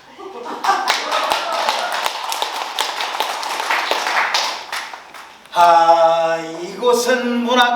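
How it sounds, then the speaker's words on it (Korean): A waiter character tap dances on stage at a literary commemoration performance, his shoes clicking in quick, busy rhythmic bursts up close. The tapping stops abruptly and a loud sustained tone, voice or music, takes over. "잘생긴 웨이터 탭댄스 발재간을 부리며"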